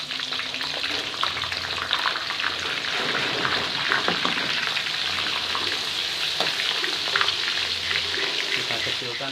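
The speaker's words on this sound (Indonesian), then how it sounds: "Selanjutnya minyak ini gunakan untuk menggoreng bumbu." Spice paste for chicken noodles frying in chicken oil, a steady close sizzle and crackle with occasional stirring scrapes throughout.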